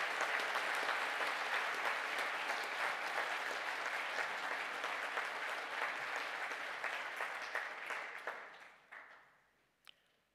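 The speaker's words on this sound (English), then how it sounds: "please stand for a well-earned" Graduation ceremony audience applauds a graduating computing class in a long, even burst of clapping that holds for about eight seconds, then thins out to a few scattered claps before fading.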